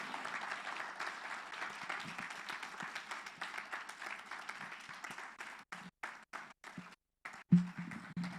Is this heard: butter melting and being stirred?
no